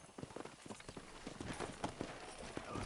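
Horse hooves clip-clopping in Red Dead Redemption, a quick irregular run of hoof strikes, moderately close and fairly quiet, over a soft background with no talking.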